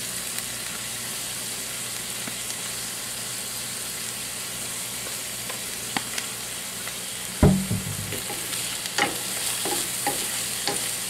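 Carrots and vegetables stir-frying for pansit bihon, a constant close sizzle and hiss with occasional scrapes of the spatula and one sharp clatter partway through.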